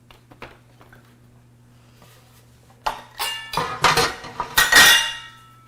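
Oil being brushed around the sides of a metal baking pan for chocolate brownies, heard as a run of close scraping, clinking knocks and rustles that grows louder after a quiet stretch, with no one talking.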